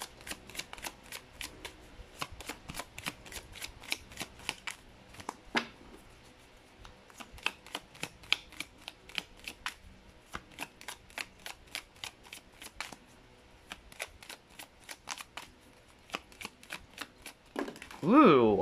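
Tarot oracle cards from a Romance Angels deck being shuffled and drawn, a long run of quick crisp riffling flicks close up, with a louder rustle near the end.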